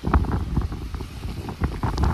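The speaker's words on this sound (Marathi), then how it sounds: "खूप जास्त पाऊस येतोय." Heavy rain and gusting wind buffet a camera beside a large truck carrying wind turbine blades, a broad rushing wash with rumbling wind bursts and spatters on the lens throughout.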